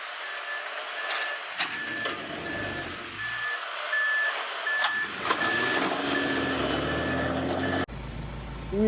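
A toy sand truck sounding its reversing alarm, a steady series of evenly spaced high beeps over a loud broadband rumble and clatter, with a brief abrupt change near the end.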